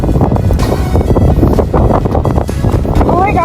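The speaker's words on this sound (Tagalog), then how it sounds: "Oh my God, ang lakas ng hangin." Strong wind buffets the microphone on a hilltop in zero visibility during a solo hike, loud and roaring in uneven gusts from start to finish.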